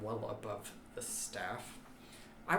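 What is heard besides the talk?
None of the usual background noises is heard.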